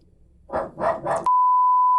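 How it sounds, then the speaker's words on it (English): Three quick barks from dogs passing by, fairly close, followed at once by a steady, loud censor-style beep tone. "some very inconsiderate dogs were walking by"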